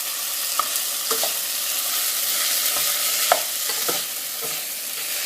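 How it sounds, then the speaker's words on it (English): Food frying in a pan for a home-cooked lunch, with a steady broadband sizzle throughout and scattered soft clicks and scrapes of stirring, close and moderately loud, with no talking. "And I just fry it up."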